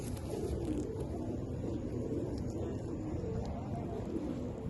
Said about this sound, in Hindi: ये माशाल्लाह उस्ताद का बहुत अच्छे कबूतर हैं